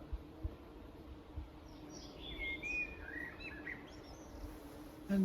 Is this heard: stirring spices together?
no